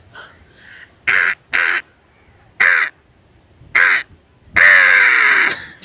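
A man imitates a crow, giving five loud, close caws in separated bursts, the last one longer and drawn out, with quiet gaps between.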